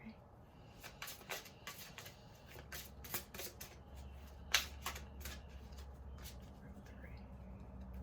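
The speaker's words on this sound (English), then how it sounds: "I do shuffle on camera" Tarot cards being shuffled in repeated quick riffles and snaps, close and soft, with faint background noise between bursts.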